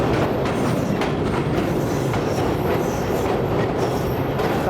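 Tezgam passenger train rolling across the Mairan bridge in Pakistan, a loud, continuous rumble with rattling wheels and faint metallic squeal, heard from inside the carriage with no voices.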